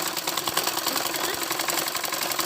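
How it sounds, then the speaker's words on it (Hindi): A sewing machine stitching a school uniform seam, a fast steady mechanical rattle of needle strokes running continuously at close range. "अब हम दूसरी सिलाई किनारे से स्टार्ट करते हैं"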